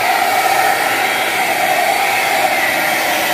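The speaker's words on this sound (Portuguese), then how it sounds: "Aí você usa o secador da mulher aí, ó." A hair dryer blows steadily and loudly over freshly poured epoxy resin on a tabletop surface, a constant whooshing airflow that holds without a break from start to finish.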